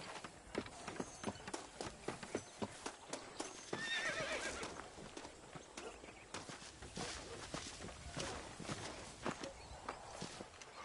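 Horse hooves clip-clop steadily while riding in Red Dead Redemption, with occasional whinnies and a faint voice at moments over the rhythmic, close hoofbeats.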